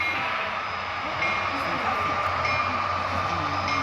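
Model railroad diesel locomotives, three Union Pacific EMD SD70Ms, run in a museum layout with a steady broadband rumble and hum throughout, while people talk nearby.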